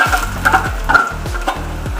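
Chopped ginger frying in sesame oil with popped mustard seeds for a garlic pickle. A steady close sizzle runs throughout, broken by repeated rhythmic scraping strokes of stirring, with no talking.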